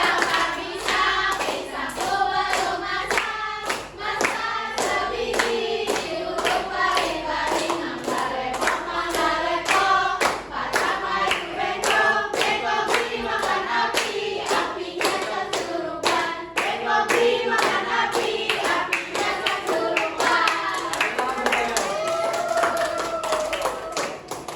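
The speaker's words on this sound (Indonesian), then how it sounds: "Tapi tepuk tangan tapi ya." Children in a primary school classroom clap their hands together in a steady, sustained rhythm, the claps near and dense and running continuously alongside singing voices for the whole stretch.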